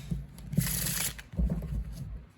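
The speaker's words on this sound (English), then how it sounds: "we can go ahead and shuffle the deck once again" A deck of playing cards being shuffled at a magic trick table, giving two close bursts of rapid riffling flutter separated by a short pause, with no talking.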